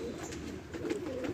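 A racing pigeon coos softly and steadily, a low murmuring call rolling on without a break, faint and close.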